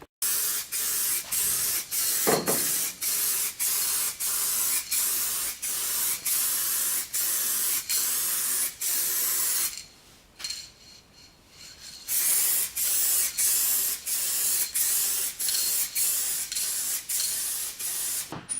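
A spray gun lays lacquer onto a Golf Mk2 wheel arch in steady, repeated hissing passes separated by brief gaps, close and loud, with a longer quieter pause midway before the spraying resumes.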